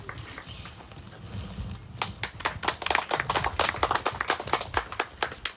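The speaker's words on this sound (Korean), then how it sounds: "박수 부탁드립니다." Scattered applause from an audience at a memorial ceremony for workers killed on the job, individual claps rising and thickening after a quiet start, fairly close and uneven in rhythm.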